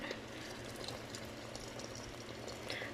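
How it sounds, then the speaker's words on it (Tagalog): Hot water pours steadily into a pot of chicken with a soft, continuous splashing hiss, fairly faint and without talk. "lagyan natin ng mainit na tubig."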